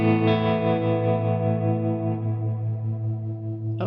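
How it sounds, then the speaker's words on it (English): Clean electric guitar through a Quad Cortex with two delays, reverb and tremolo, a sustained ringing chord that shimmers and slowly decays with a wavering, chorus-like wash, heard alone. "So the clean ambience. I was turning on the 2 delays in this reverb."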